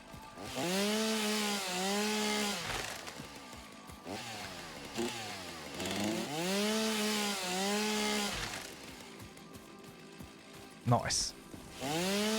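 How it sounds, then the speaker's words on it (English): A chainsaw in the factory-building game Satisfactory revs in long sustained bursts with rising and falling engine pitch, cutting steadily with brief pauses between runs, loud and close, while a person speaks briefly. "We got a chainsaw now. Life's better. Now we can actually really hurt this planet."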